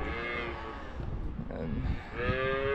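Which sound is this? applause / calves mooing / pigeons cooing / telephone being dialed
calves mooing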